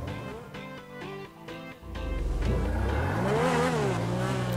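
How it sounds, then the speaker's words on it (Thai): The Grotti X80 Proto hypercar in GTA V Online idles with a steady hum, then revs up and accelerates into a sustained, rising engine whine with shifting pitch, fairly quiet throughout. "เสียงเริ่มต้นนะฮะเสียงคัน รถนี้เป็นค่อนข้างเบามากนะฮะ"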